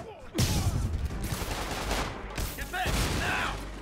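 Gunfire in the video game Marvel's Spider-Man, a dense rattling volley of shots that rolls on for several seconds, loud and close, with game dialogue voices mixed in.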